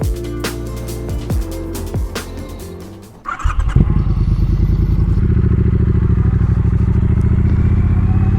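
A Triumph Bobber motorcycle engine fires up after some clatter and then runs steadily close by, a loud, continuous throbbing rumble that holds for several seconds with no talking.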